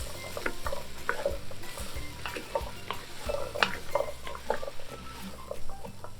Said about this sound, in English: going to saute these along with the onions and garlic